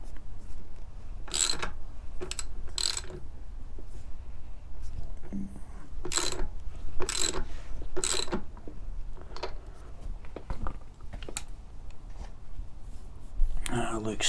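A ratchet tightens crash slider bolts on a Honda CB650R motorcycle, giving close, short bursts of clicking at irregular intervals over a quiet background.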